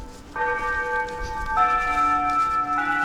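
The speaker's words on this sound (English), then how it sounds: "This is a school bell." A Japanese school bell chimes at 5 p.m., sustained bell-like tones stepping through a slow melody after a quiet start, steady and fairly loud with no talking.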